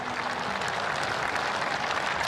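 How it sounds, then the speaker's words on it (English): Crowd at an AFL match applauding and cheering as a veteran player with a 350-game career leaves the field, a dense, steady roar of clapping that fills the whole moment. "Huge round of applause."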